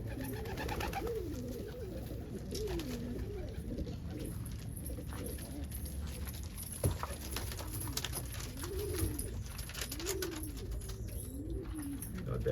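Soft, repeated cooing from a pair of saddle homer pigeons, close by, with low rolling calls recurring every second or so over faint background noise.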